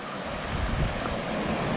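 Rain-swollen creek water rushes steadily in a constant broadband wash, fairly close and unbroken, with no talking.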